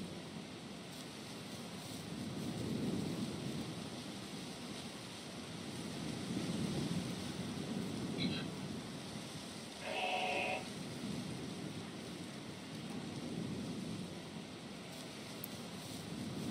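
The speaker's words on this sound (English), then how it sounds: "Now it's raining here, so that could be why." Rain falls in a video game set on Firespit Island as a soft, continuous hiss that swells and eases gently, with a couple of brief faint electronic tones partway through and no speech.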